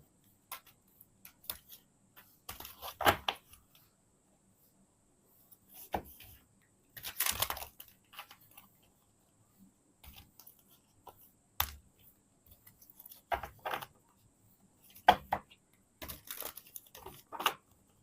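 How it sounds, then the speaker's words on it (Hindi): Tarot cards are shuffled quietly by hand in scattered short bursts of soft riffling and ticking, separated by near-silent pauses. "जब तक मैं कार्ड शफल करती हूँ,"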